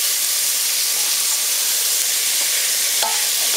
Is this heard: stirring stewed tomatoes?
yes